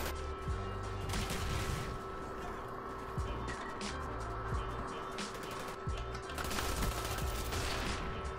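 Gunfire in the video game Call of Duty, rapid bursts of automatic fire over a dense steady game soundscape, fairly loud and continuous.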